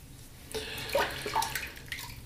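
Water runs steadily while handmade soap is rinsed off under a tap, a continuous broadband splashing with a few louder surges, close and moderately quiet, with no talking.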